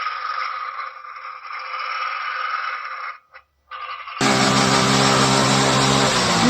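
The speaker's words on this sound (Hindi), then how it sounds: "ये मेरी बाइक प्रॉपर स्टार्ट है" A TVS XL 100 BS6 fuel-injected moped engine runs steadily after starting, a loud, continuous close-up mechanical hum that cuts out briefly midway and then returns louder and fuller.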